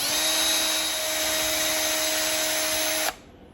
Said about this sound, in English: I'm going to rough it up with this drill bit